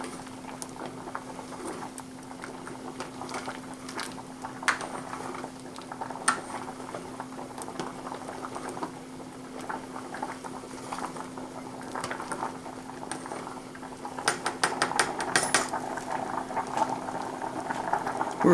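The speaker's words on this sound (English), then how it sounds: "I'm going to stir it a little bit so it doesn't stick here in this last minute" Macaroni boiling in a pot, a steady close bubbling and patter under occasional scrapes and clinks as a utensil stirs through the pasta, with a busier burst of stirring near the end.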